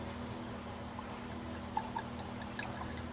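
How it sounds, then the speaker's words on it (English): White Zinfandel wine poured into a glass, a faint, quiet trickle with a couple of small clinks and splashes over a low background hum. "So I'm going to pour me a big old glass."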